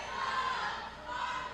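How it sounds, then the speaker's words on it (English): A wrestling crowd reacts to the wrestler Heartbreak with a steady, loud roar of mixed voices that swells, dips briefly and rises again. "You can hear what this crowd thinks of Heartbreak."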